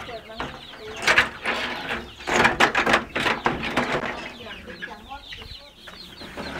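Pradu Hang Dam chickens, a Chiang Mai breed, clucking on a farm with about 80 birds, nearby bursts of clucking and calls coming in clusters, with a voice talking in the background.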